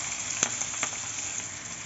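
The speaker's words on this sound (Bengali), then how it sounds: "এবার আমি ক্যাপসিকামটা দিয়ে দিলাম।" Capsicum and onion frying in hot oil make a faint, steady sizzle with a couple of small pops, heard from a little distance and without speech.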